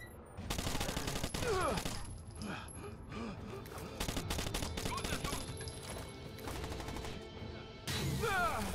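Gunfire in the tactical shooter video game Rainbow Six Vegas 2: sustained bursts of rapid automatic fire and crashing shots, dense and continuous, with a brief lull near the end before firing resumes.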